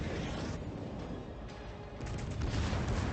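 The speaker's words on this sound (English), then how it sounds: "wait for my guns to reload before I can shoot again" Battleship main guns firing in World of Warships aboard the Giulio Cesare, heavy booming blasts smeared into a dense continuous roar, with a louder surge near the end.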